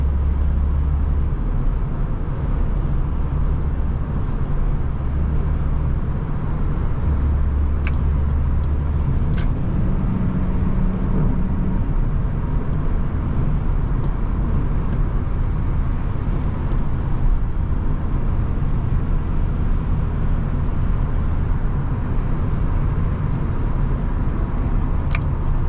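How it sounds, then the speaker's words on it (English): Steady interior drone of a 2002 Honda Accord SE cruising at highway speed, with constant low engine and road rumble and tire roar, loud and unbroken, with no talk. "Love this Accord. 70, 75 just feels so effortless, easy, smooth."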